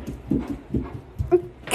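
A dog makes its way down a flight of stairs, its paws landing in soft, evenly spaced thuds, about four steps at a steady pace, close by with no talking.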